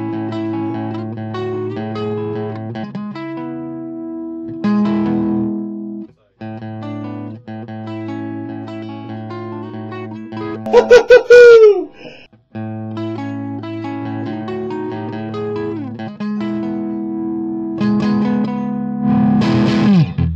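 Distorted electric guitar chords through a Marshall JCM amp head, loud and sustained, with a squealing bend or feedback burst midway and more crunchy chords after.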